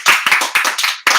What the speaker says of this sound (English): Round of applause, please, for Jaquan Walker.